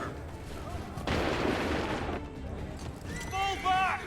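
A musket volley in Assassin's Creed III sounds as one dense crackling burst of many shots lasting about a second, followed by shouting soldiers' voices.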